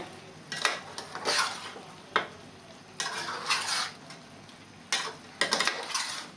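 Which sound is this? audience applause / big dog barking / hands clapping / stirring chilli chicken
stirring chilli chicken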